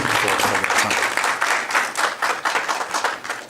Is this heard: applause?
yes